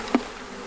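A swarm of bees being collected during a bee rescue buzzes close by, with one brief louder buzz as a bee passes near, then a softer steady hum.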